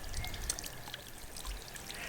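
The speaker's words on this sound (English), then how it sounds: "there we have our watercress in its pot within our water feature" Water trickles steadily in a small garden water feature holding a potted watercress, a soft continuous splashing close by with no talk.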